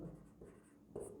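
Soft, continuous scratching of a pen or chalk writing out a chemistry note, faint and close, with a brief stronger stroke near the end and no talking.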